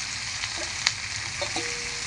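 Capsicum and carrot stir-frying in a pan over a high flame, a steady close sizzle with a couple of brief utensil clinks, no talk.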